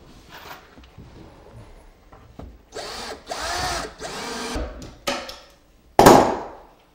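A power drill drives pocket-hole screws into a wooden face frame for trim carpentry, with several short whirring bursts between pauses and a sharp louder burst near the end.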